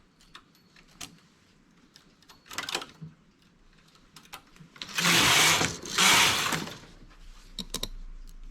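Domestic knitting machine carriage sliding across the needle bed while making a three-needle transfer stitch, heard as two loud rasping sweeps in the middle, with lighter clicks and a brief earlier pass around them.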